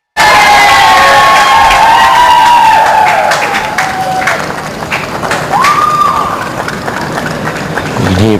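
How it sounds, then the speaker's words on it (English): A crowd screams and cheers from a neighbouring lawn bowls rink during a Wales versus Scotland match at the 2010 Commonwealth Games, a loud, steady wash of shouts and cheering with a few higher cries rising above it throughout. "Hear plenty of screaming on the rink next door"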